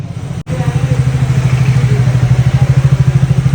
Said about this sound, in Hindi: पार्किंग में बाइक पार्क कर दी है और ये प्रतीक आ गया है।